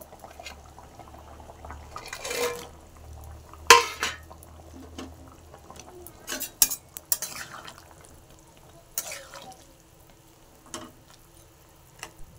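Fried lentil fritters dropped into a pot of vegetable curry and stirred with a metal spoon: a handful of sharp clinks and scrapes against the pot, spaced out over a quiet background.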